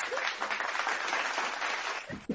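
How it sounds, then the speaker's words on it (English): An audience applauds for Shannon with a dense, steady burst of clapping that runs loud and even for about two seconds and then cuts off abruptly. "just give Shannon an applause because she is fighting today"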